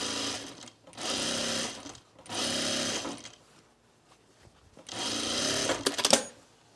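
Home sewing machine stitching a seam on a men's tropical shirt in three bursts of steady, fast motor whirring and needle chatter, separated by short pauses, with faint handling noises near the end.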